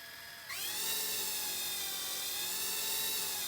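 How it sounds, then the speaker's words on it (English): A small electric RC helicopter motor whines at a steady high pitch as the throttle is moved up and down, starting abruptly and holding loud and close with slight shifts in speed. "You can hear the throttle. I'm going up and down on sticks."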